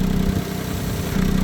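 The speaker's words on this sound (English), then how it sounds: "We'll start the car up. And you can immediately hear one of the issues." A Smart ForTwo with a blowing exhaust runs right after starting, giving a close, loud, uneven engine drone with a raspy puffing pulse.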